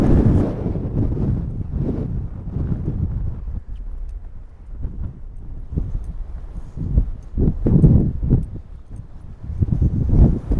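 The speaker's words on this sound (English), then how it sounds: "Oh, this wind is absolutely ridiculous." Strong gusty wind buffeting the microphone on a Lake District fell summit, deep rumbling roar rising and falling in surges throughout, close and loud with no voices.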